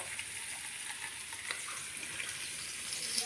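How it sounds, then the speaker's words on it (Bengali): Potatoes and tomato fry in a pan, producing a steady, fairly loud hiss of sizzling oil with faint stirring scrapes throughout, no voices present. "এর সঙ্গে আলুগুলো দিয়ে দিচ্ছি, ভেজে নেবো।"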